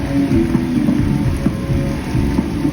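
Heavy rain pours down steadily at an outdoor music show, a loud dense hiss with thumping drops and no pause, drowning out everything else.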